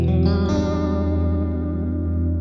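A sustained guitar tone through an Eventide H9 pedal with a chorus vibrato effect, its pitch wavering and shimmering steadily as the note rings out alone.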